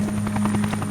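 A helicopter flies overhead with a loud, close, steady rotor thump and a strong engine drone, carrying a team toward a base camp on the Kulu River in Russia's Magadan region; no voices are heard.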